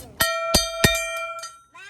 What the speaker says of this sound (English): Dinner bell.